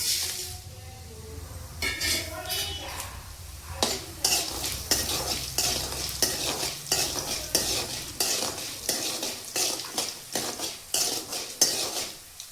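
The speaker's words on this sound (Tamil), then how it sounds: "முதல்ல நம்ம மல்லி, சீரகம், மிளகாய் அதை போட்டு வதக்கலாம்" Coriander seeds, cumin and dried chillies frying in a little oil for peanut chutney, a continuous sizzle broken by rapid, regular scrapes and clinks of a spoon stirring against the pan, close and loud.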